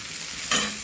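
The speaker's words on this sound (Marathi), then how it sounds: "सगळं मिळून हा मसाला असा मस्त भाजायचा" Chicken kharda masala with chopped ginger roasts in a pan: a quiet steady sizzle, then a single brief stir that scrapes through the mixture.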